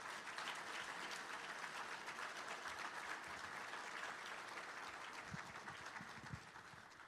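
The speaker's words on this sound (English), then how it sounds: "Let's give one more grateful round of applause to all today's finalists and winners." A crowd at a public safety valor awards ceremony gives steady, dense applause for finalists and winners, heard from a distance at low level and easing off slightly at the end.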